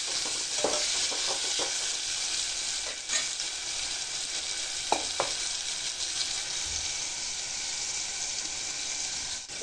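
Potatoes and tomatoes fry in a pan with a continuous close sizzle, broken by occasional scraping knocks of a stirring utensil.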